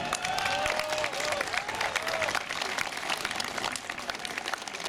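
A crowd at a county volunteer fire brigade competition applauds the winning team, a steady wash of clapping with some cheering and a few voices in the background, held at moderate distance throughout.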